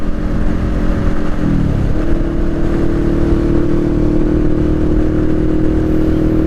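A motorcycle cruises steadily on the road while changing lanes, its loud, constant engine drone joined by wind rush, with the engine tone shifting slightly partway through.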